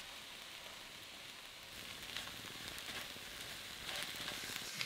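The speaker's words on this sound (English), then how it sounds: "So we're frying that all together, stirring regularly for about 3 minutes" Steady, quiet sizzling from chicken and curry paste frying in a pan, with a continuous crackling hiss and occasional slightly louder spits.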